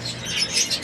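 A pet parakeet gives a few short, high chirps, fairly close and moderately loud, over a faint low background hum.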